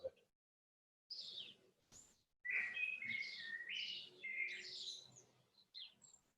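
A common blackbird sings in a quiet outdoor setting, giving fluting, warbled phrases that run almost continuously for several seconds after a few brief opening notes, clear and moderately close with no talking.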